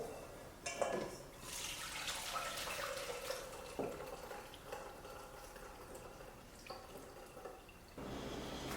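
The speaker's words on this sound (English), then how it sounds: "Now we're going to strain it. Strainer, another bowl." Soup pours through a strainer into a bowl, a close, steady liquid splash and trickle with a few clinks at the start and a short break near the end.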